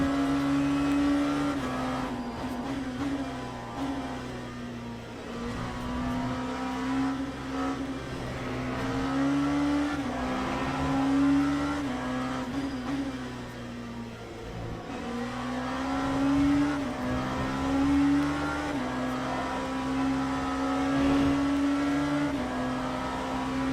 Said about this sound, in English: Engine blaring away in my ears.